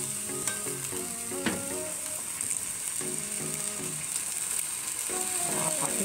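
Marinated pork stir-fried with curry paste in a pan gives off a steady, close sizzle, with repeated scraping and clinking as a utensil stirs the pan.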